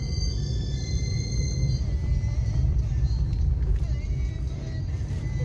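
Vehicles pass on a road close to a house in a steady, loud low rumble of traffic with engine hum, while people talk over it.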